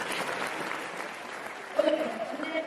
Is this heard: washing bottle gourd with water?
no